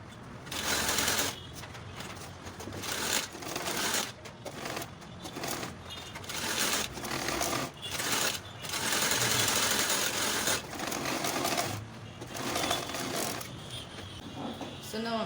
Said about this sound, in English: and then I'll be running the stitch